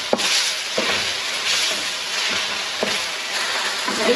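Chicken ginger karahi fries in oil with a steady, close sizzle, broken every second or so by short stirring scrapes, with no voices.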